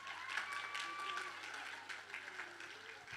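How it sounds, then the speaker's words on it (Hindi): Faint, distant audience applause at a school annual function rolls on steadily after a yoga performance by students, soft and diffuse throughout. "जोरदार तालियां।"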